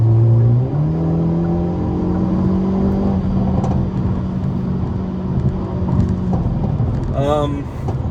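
Hyundai Elantra N engine and exhaust heard from inside the car while driving at night: a steady, continuous drone whose pitch climbs in the first second and then holds an even cruising note.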